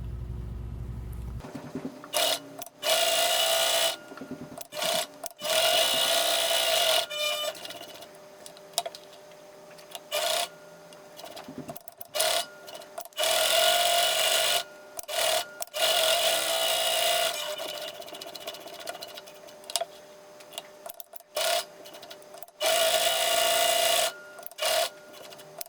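A Morse Fotomatic III sewing machine stitches an automatic buttonhole, its motor running in loud bursts of a few seconds each, separated by short pauses and quiet clicks, with no talking.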